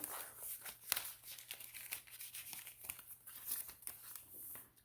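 Paper crinkles and rustles continuously at close range, with sharp little crackles scattered through the handling.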